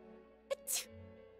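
A single short sneeze, sharp and fairly close, stands out over a quiet background of low tones from a Persona 4 Golden game session.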